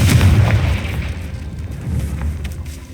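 The Confringo explosive spell bursts in Hogwarts Legacy with a deep, rumbling boom that swells at the start, then fades into a lower rolling tail, with no talking.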